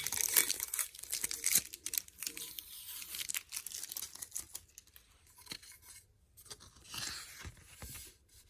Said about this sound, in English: let's remove our tape and see what we have